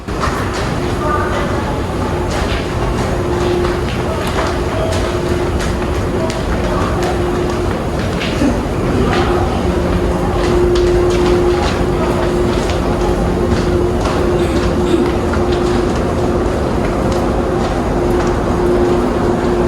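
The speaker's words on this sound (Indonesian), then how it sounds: "Akhirnya saya tiba di peron 1 dan 2 stasiun MRT Duku Atas" Steady underground platform ambience at Jakarta's MRT Dukuh Atas station, a loud continuous hum of machinery and ventilation with a constant whine, scattered clatter and indistinct crowd voices throughout.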